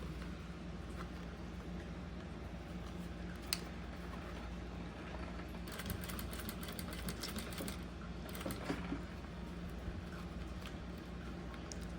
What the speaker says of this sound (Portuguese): Vou fazer essa costura muito devagar, mas assim, muito mesmo.